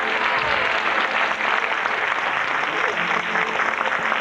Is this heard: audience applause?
yes